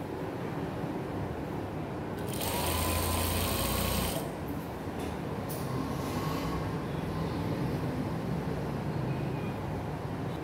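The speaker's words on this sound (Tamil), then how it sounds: "½ இன்ச்சு மடித்து தைச்சிட்டு ½ இன்ச்சு மடித்து தைச்சு அப்படியே ஒரு தையல் போட்டுப்போம்" A sewing machine stitches the half-inch folded hem of a plain kurti, with a loud burst of motor whir lasting under two seconds, followed by softer run-on noise and a brief restart.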